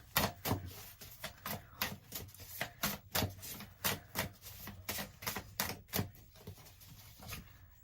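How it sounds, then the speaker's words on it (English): Oracle cards are drawn and shuffled in a quick, steady run of soft papery slaps and riffles, about two per second, close and quiet with no talking over them. "let's pull some gold cards for you, Gem."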